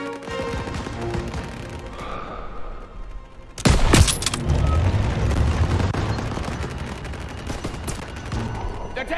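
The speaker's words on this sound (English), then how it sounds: "They're taking fire from behind!" Rapid gunfire bursts and explosions in the World War II shooter Call of Duty WWII, with a heavy blast near the middle and continuous battle noise throughout, under shouted voices.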